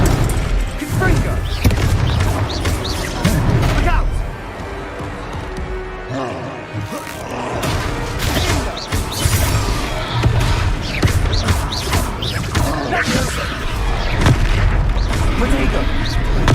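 Confringo fire spell explosions in the Hogwarts Legacy video game: repeated loud booms and blasts bursting over busy game music and effects, with voices talking across the noise.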